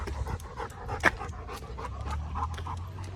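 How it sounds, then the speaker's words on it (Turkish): A German Pointer hunting dog pants quickly and steadily up close, short breathy huffs in a continuous rhythm with a faint whimper. "Alman av köpeği German Pointer köpek cinsinin"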